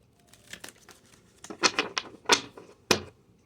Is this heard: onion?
no